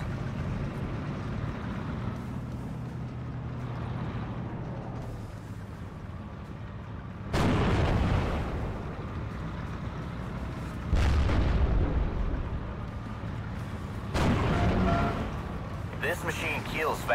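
Artillery fire and explosions in the Steel Division war video game, several heavy booming blasts at intervals over rumbling battle noise, with voices talking throughout.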